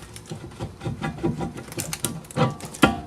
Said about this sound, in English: Now that both the caliper bolts are out, we're going to pry the caliper away. Grab it down here and up here, wiggle.